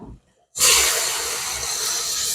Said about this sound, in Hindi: अब हम इसमें ऐड करते हैं पानी।